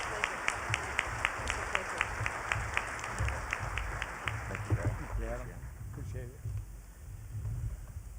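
Audience at a chamber breakfast event clapping for a speaker, a sharp rhythmic run of claps with a steady beat that fades out after about five seconds as room murmur and a speaking voice take over.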